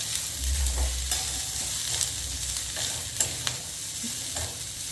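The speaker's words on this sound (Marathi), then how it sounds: "आपण इथे भाज्या फक्त लोखंडाच्या कढईत परतवतो आहोत" Vegetables for hakka noodles stir-fry in an iron wok, a soft steady sizzle punctuated by scraping stirs and a few sharp clinks of the spatula against the metal, with no talking.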